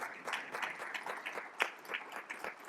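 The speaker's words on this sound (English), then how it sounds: "I'll stop for applause." Conference audience clapping briefly after a speaker pauses, a faint, thin patter of scattered hands from a modest crowd, quiet and short.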